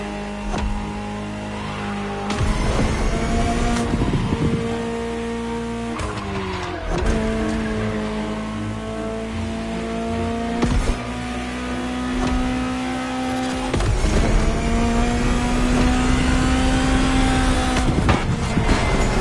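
A loud Ferrari supercar engine in The Crew Motorfest revs and climbs through gears, each pitch rise cut by a shift, with occasional tire squeal.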